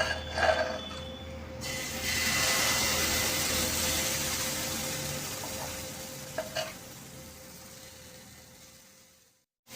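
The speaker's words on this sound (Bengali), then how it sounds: "এবার আমি রোলটি তোমাদের ভেজে দেখাবো" An egg chicken roll fries in a little oil in a pan, a steady broad sizzle rising after a brief start and slowly fading, with a couple of light clicks from handling, no talk.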